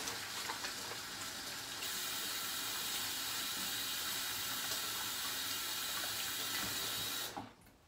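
Hands being washed under a running kitchen tap, a steady broadband rush of water flowing for about seven seconds before cutting off abruptly near the end, with no talking.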